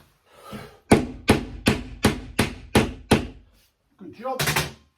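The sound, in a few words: hammering a screw into MDF wardrobe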